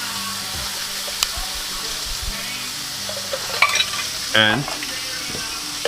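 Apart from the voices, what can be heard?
black beans sizzling as they are stirred in a pan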